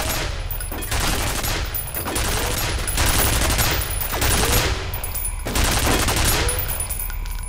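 Gunfire in the FEAR video game, a loud fusillade of rapid shots and bursts recurring in waves roughly every second or so, close and dense, with no talking.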